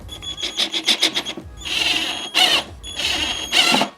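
A power drill drives screws into a folding dining table during assembly: a quick stuttering run of short whirring bursts, then two longer high-pitched squealing drives, close up with no talk.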